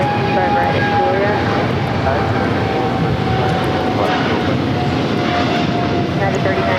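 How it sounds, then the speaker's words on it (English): A Boeing 777 freighter jet operated by Polar Air Cargo for DHL takes off from runway 25 right at LAX, producing a loud, steady jet roar with a sustained whining tone that fills the whole clip. "This is DHL operated by Polar Air Cargo 962 taking off to Cincinnati on a 777 freighter."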